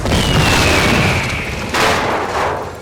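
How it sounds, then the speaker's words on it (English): A missile explosion staged as a sound effect in a science-fiction audio drama: a loud, continuous rumbling boom with a falling whistle, and a second burst hits near the end, with no voices over it. "Missile incoming! Get down!"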